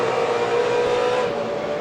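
A Trans Am Series race car at Mosport accelerates after an upshift, its engine note a steady, loud, continuous roar with a rising pitch throughout.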